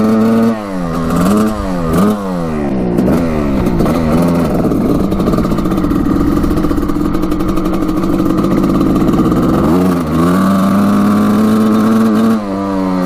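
A 1989 Suzuki RM250 dirt bike engine kicks over and fires, running loud and close as a two-stroke with repeated rising and falling revs, blips of throttle over a steady rasping drone and no talk.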